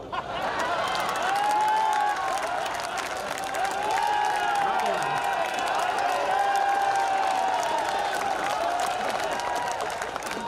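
A crowd at a Hindi comedy poetry gathering breaks into sustained applause mixed with cheering and raised voices, a dense, continuous roar that holds at full strength from start to finish.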